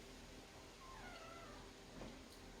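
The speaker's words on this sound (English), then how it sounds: "That sound would be my cat" A single drawn-out cat meow, faint and a little whiny, rises over a steady room hiss with no talking.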